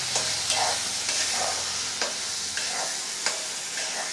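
Ground peechinga (ridge gourd peel) chutney paste stirred around a hot frying pan, a steady broad sizzle with soft spatula scrapes recurring every half second or so, close and moderately loud, no voices.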